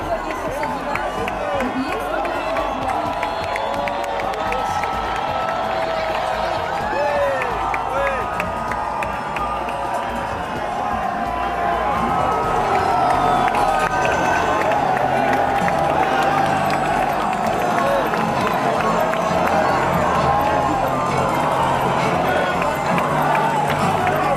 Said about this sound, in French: vous voyez la foule en liesse au Champ de Mars où l'on célèbre la victoire d'Emmanuel Macron